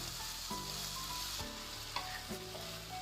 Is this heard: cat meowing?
no